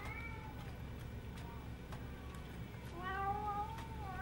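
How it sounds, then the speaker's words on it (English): A domestic cat meows several times in drawn-out, wavering cries, near and fairly clear over a steady low room hum, with a louder burst of meowing toward the end. "He's a bad cat. Bad, bad cat."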